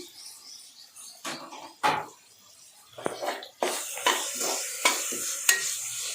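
Tomatoes and cut green chillies fry in a pan while being stirred, with sharp scraping strokes and bursts of sizzling at irregular intervals, close and clear with no talking.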